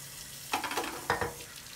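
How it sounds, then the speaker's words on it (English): Hot water from a tap splashes through the chambers of a cap-and-ball revolver's cylinder in two short gushing bursts over a low steady hiss. "I'm going to run the hot water through all the chambers"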